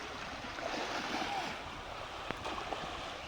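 Strong river current rushing past close by, a constant broadband roar of churning water with a couple of faint knocks, no speech.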